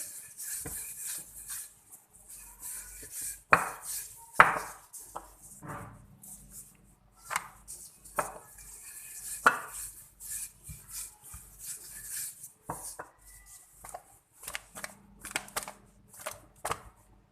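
A rolling pin rolls out stuffed aloo paratha dough dusted with flour, giving soft intermittent rubbing and scraping strokes with light taps and knocks, quiet and irregular with near-silent gaps between passes.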